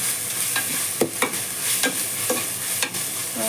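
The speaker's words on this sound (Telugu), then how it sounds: "మంచిగా అల్లం వెల్లుల్లి పేస్ట్ కుక్ అయిపోతుంది." Ginger garlic paste sizzles steadily in a hot pan, with a few distinct scraping stirs of a spoon cutting through the constant close frying hiss.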